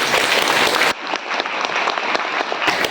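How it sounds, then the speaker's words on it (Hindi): Applause from a crowd at a church prayer gathering, dense clapping throughout, briefly dipping and then continuing loudly to the end. "ताली नहीं बजाएंगे।"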